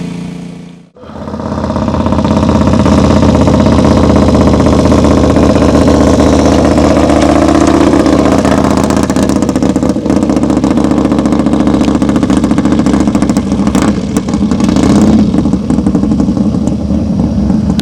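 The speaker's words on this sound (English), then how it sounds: "All the bikes are lined up and ready to go." Racing motorcycles lined up at the start line of the Maxton Mile in Maxton, North Carolina, idling together in a loud, steady, close engine rumble that holds almost unbroken after a brief quiet opening.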